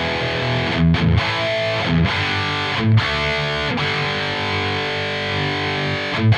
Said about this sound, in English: let's go from silver to gold, and let's listen